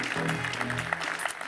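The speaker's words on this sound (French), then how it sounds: "On peut l'applaudir bien fort." Audience applause at a televised architecture-industry event as a guest is welcomed to the table, scattered claps sounding fairly soft under a low hum and a brief voice at the start.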